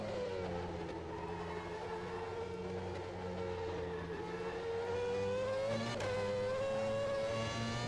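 A McLaren F1 race car engine screams steadily in rFactor 2, a loud sustained high-revving drone that rises and falls slightly, with a brief sharp shift near the end and no talk.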